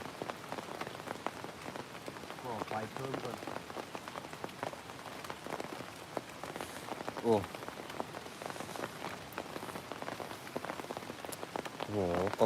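Steady rain patters on a hard surface close by, with scattered heavier drops and occasional louder splashes throughout.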